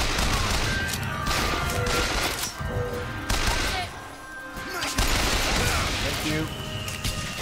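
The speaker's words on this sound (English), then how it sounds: "Machine gun shoots a lot faster." Machine gun fire in the video game Bioshock Infinite, loud rapid bursts with crashes and booms that go on almost without a break, while a voice briefly talks over the shooting.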